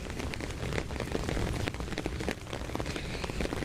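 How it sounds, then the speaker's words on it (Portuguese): Heavy rain falling steadily outdoors, a dense, continuous hiss of drops spattering on surfaces, close and even throughout with no talking. "E agora a chuva tá engrossando de novo."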